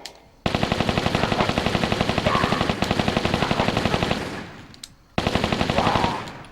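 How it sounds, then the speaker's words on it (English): Rapid Uzi gunfire in Tomb Raider 3, two long automatic bursts separated by a brief pause, loud and sharp with fast regular shots. "Let's go for the Uzis."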